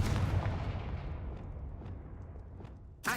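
A Confringo blasting spell fired in Hogwarts Legacy lands as a deep, rumbling explosive boom that decays over a few seconds with faint crackles, then a sharp new burst hits near the end.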